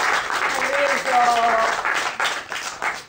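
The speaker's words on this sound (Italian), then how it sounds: "Allora io farei subito un applauso" Applause from a crowd at an award ceremony, steady and fairly loud for a few seconds, with a voice speaking over it.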